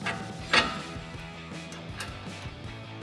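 Ratchet with a 21mm socket tightening the original tie rod end nut on a 2012-2018 RAM 1500 during a suspension lift install: a few soft clicking mechanical turns over a low steady hum, with one sharper metallic clink early on.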